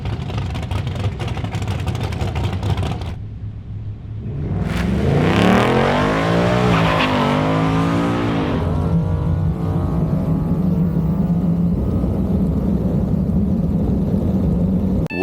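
A 2026 Ford Maverick truck leaves the line on a drag strip: after a brief idle the engine surges into a loud, rising roar of hard acceleration, then settles into a steady droning pull as it moves away.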